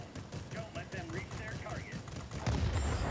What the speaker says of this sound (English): So we'll test out the guns.